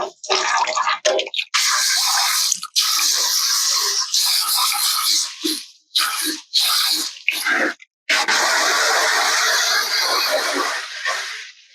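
Water and sediment draining out of the bottom of an RV hot water tank during cleaning and descaling, a loud, steady splashing gush broken by a few brief gaps.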